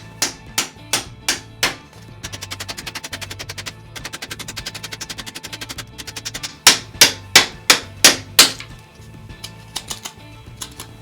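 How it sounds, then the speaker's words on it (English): Dead stick being chopped in half with a CPM M4 steel knife, sharp sharp woody impacts struck close by in quick runs of strikes, some grouped into rapid rattling bursts and others spaced out singly and loudly, continuing for about eleven seconds. "This time, I'm going to take that stick and just chop it in half."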